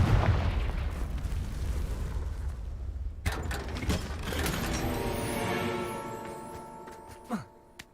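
A Confringo blasting curse in the Hogwarts Legacy video game goes off as one sudden, close blast midway, then trails into creaking, rattling debris that fades away.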